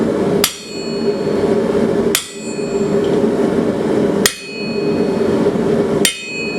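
Four hard, ringing hammer blows on cold metal over an anvil, spaced about two seconds apart, each one loud and close with a long metallic ring trailing off behind it.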